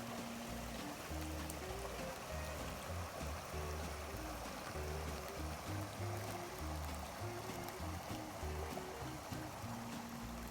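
Creek water on a ranch flows steadily through a freshly cleared channel, a continuous rushing wash with a low rumbling undertone that holds evenly for the whole stretch, with no voices.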